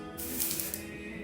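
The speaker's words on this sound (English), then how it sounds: "dry shampoo. And you just spray, again, like I said, I'm almost out" Dry shampoo aerosol sprayed onto hair roots, a short close hiss of spray lasting about half a second over a low background hum, with no talking.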